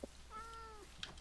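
A cat gives a single short meow, faint and close in a quiet room, rising then falling over under a second, with a couple of small clicks around it and no talking.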